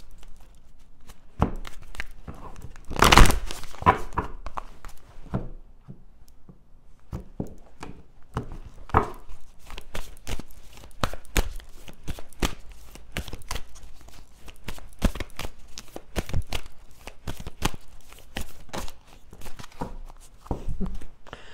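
Moonology oracle cards being shuffled by hand, sparse papery slaps and riffles at close range, irregular and fairly quiet, with one sharp loud burst early on and scattered soft card flicks after.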